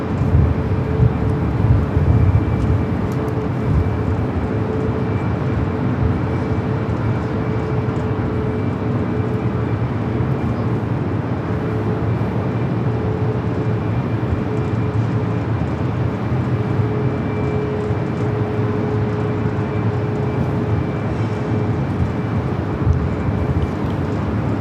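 A Boeing 737 MAX 8 airliner at LAX, bound for Denver, produces a continuous loud engine roar with a steady whine on top, sustained and unchanging for the whole stretch, no talking.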